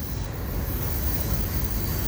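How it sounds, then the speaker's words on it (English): An FEC freight train pulling out, a steady rumbling roll of railcars close by with no pauses, loud and continuous throughout. "Then I get up here and the train's pulling out."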